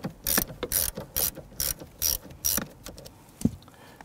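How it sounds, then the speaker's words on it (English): Ratchet with a 10mm socket loosening the battery ground terminal on a 2011-2021 Jeep Grand Cherokee 3.6L V6, heard as a close series of bursty clicking strokes in a steady rhythm, alone without talk. "We're going to use a 10mm socket to loosen the ground terminal here."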